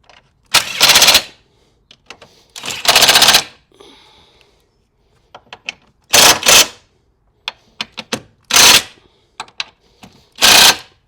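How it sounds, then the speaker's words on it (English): An impact gun on its lowest setting rattles in short bursts while tightening strut brace bolts on a 2001-2006 Mini R53, with several loud chattering blasts separated by quiet gaps and small clicks, close by and without talk. "take my impact gun part and just make sure, because I couldn't get my fingers in tight on that one"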